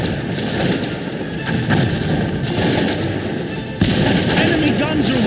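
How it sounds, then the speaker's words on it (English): Gunfire and artillery rumble through a Cossacks 2 battle between Poland and Russia, with dense overlapping shots and thuds and a sharper burst near the end. A game voice speaks over the fighting. "Enemy guns are wiping out our ranks."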